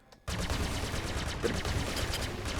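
Sustained rapid gunfire from a ship in the space sim game Star Citizen fills the scene, dense and loud after a brief quiet start, with continuous bursts and no speech over it.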